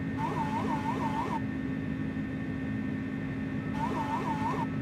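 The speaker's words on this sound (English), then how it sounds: "I hate the trim noise in this airplane." Electric pitch-trim noise of an A300-600R freighter in Microsoft Flight Simulator, a warbling repeated tone in two short bursts over a steady cockpit engine hum.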